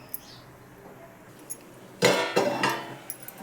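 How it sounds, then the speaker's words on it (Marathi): A metal lid set onto a kadhai of water on the stove gives a close, sharp clank followed by a brief rattling settle, then quiet. "झाकण ठेवते म्हणजे पटकन पाणी उकळेल"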